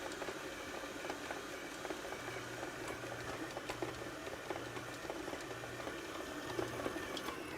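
A stand mixer with a planetary bowl kneads soft, oily breadstick dough, a steady low motor hum with a faint rhythmic pulsing, fairly quiet and with no talk.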